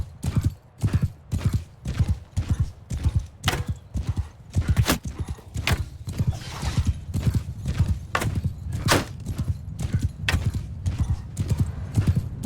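A horse gallops under a rider in Mount & Blade 2: Bannerlord, a steady rapid drumming of hoofbeats that stays loud and close throughout, with no voices over it.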